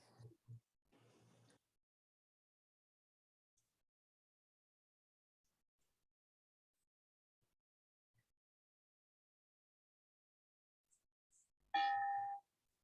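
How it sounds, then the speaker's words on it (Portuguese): At the opening of a virtual Rotary Club meeting, a bell rings once, a clear ringing tone after a long silence, preceded by brief faint speech. "vou soar o sino"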